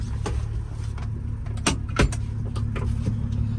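A Honda mini truck idles with a steady low engine drone close by while a door thunks and a few sharp clicks and knocks of the cab land over it, with no talking.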